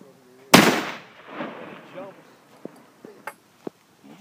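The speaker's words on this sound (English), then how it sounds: "That was a pretty loud bang, Matt." A single loud, sharp bang from a black powder gun at a shooting range, followed by a decaying rumble and a few faint clicks and pops afterward.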